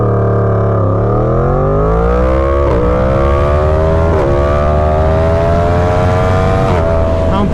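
Yamaha MT-10 (FZ-10) motorcycle accelerating hard from 0 to 100 mph, engine note climbing steadily through several gear shifts, loud and close with no talk.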